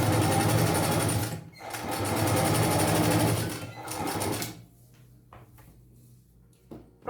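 A domestic sewing machine stitches fabric for a 3D pencil case in rapid, loud bursts separated by brief pauses, then stops, leaving quiet handling sounds.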